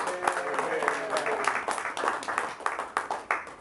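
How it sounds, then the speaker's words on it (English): Audience applause at a town hall for Dave Hodges, with scattered claps and a bit of talk mixed in, the crowd sound fairly distant and moderate in level over a few seconds. "let's give a round of applause for Dave Hodges doing that"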